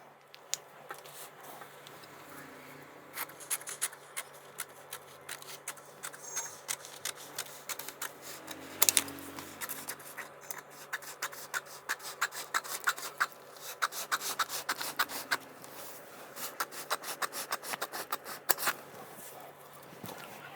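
Scissors cut through a paper sewing pattern for a size 44 shirt, a quiet, continuous run of soft snips and rustling paper close by, with a sharper crinkle midway.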